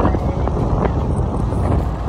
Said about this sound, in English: It was so windy but it was so much fun.